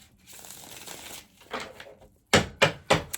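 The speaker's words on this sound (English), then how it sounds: "I'll just give the cards one more shuffle and then we'll get started." Tarot cards are shuffled by hand before a reading, first soft riffling and rustling, then three sharp, close snapping riffles near the end.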